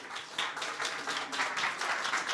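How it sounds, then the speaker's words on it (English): Audience applause at a talk on digital technologies for workforce reskilling, a steady wash of many hands clapping, moderately faint and continuous. "this big round of applause is really very fair"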